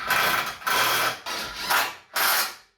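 A ratchet clicks rapidly in several bursts while tightening 19mm bolts on the bumper bar of a Nissan Navara V6, loud and close, with short pauses between runs.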